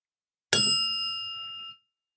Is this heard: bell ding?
yes